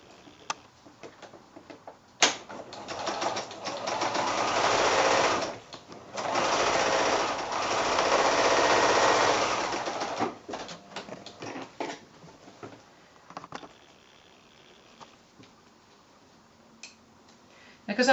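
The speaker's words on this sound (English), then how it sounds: "And now sew that seam." Sewing machine stitching a quilt-as-you-go block seam in fast bursts, loud and close, with two long runs separated by short pauses and small ticks and handling noises in between.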